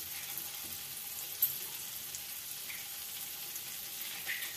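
Bread snack frying in a pan, a soft, continuous sizzle with faint crackles, steady and close without any voices.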